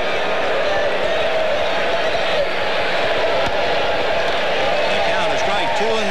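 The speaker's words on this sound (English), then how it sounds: "And this crowd, a little bit uneasy and a little restless" A restless crowd at a Chicago Cubs versus New York Mets baseball game in 1988, a steady wash of murmuring and scattered shouts filling the stadium, with a commentator talking over it.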